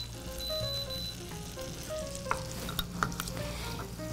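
Pears caramelizing in butter in a frying pan give a steady close sizzle, with a spoon stirring and a few sharp taps against the pan while faint music plays behind.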